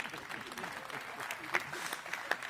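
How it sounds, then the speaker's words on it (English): Brief burst of clapping from a small crowd at a Party of European Socialists congress, steady and moderately loud, with a few sharper claps standing out. "Yes, an applause to Thomas Baupel."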